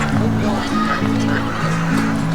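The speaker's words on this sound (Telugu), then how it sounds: "బాతులు" Ducks calling continuously in an adventure park in the UK, a dense run of nasal honking calls close by, with people's voices mixed in.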